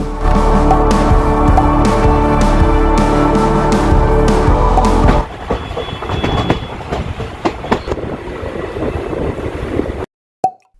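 The Kanchanjunga Express passenger train rumbles and clatters loudly along the rails from Sealdah, then the roar drops to a lighter rhythmic clacking before fading into near silence with a brief click on arrival at Dakshineswar.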